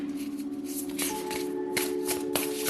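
Oracle cards are riffled and drawn by hand in a series of quick papery bursts and flicks, close and crisp over a faint steady hum, with no speech during the shuffling.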